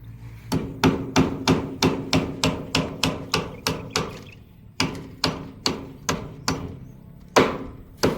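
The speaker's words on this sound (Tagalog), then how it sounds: "Ipako mo pa isa yan." Nails are hammered at a new building site, about sixteen sharp, close strikes in a steady rhythm with a short pause midway, and no talking.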